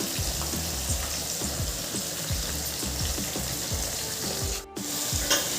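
Onion and carrot fry together in a pan, giving a continuous crackling sizzle with soft stirring scrapes and a brief dip near the end.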